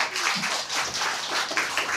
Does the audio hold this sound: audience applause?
yes